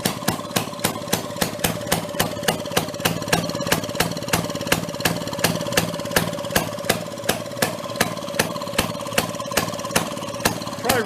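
A Maytag 92 hit-and-miss engine, found at a flea market, chugs steadily with a rapid, evenly spaced train of sharp firing pops and a metallic clatter, close and loud with no talking.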